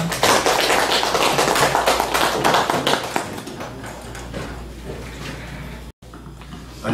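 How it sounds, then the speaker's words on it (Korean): Audience applause welcoming a lecturer at a public lecture on haenyeo life and songs, loud dense clapping that thins and fades toward the end. "큰 박수 부탁드리겠습니다"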